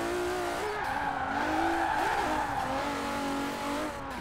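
A Nissan Skyline R31 GTR drift build in Forza Horizon 4 holds a loud, steady engine drone through a turn, the pitch dipping and rising with the throttle as the tires squeal underneath.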